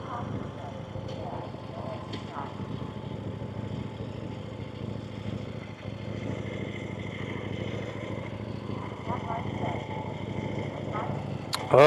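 A KTM motorcycle ridden on a Memorial Day ride around Albuquerque, New Mexico, heard from the rider's position as a steady, continuous engine drone mixed with rushing wind.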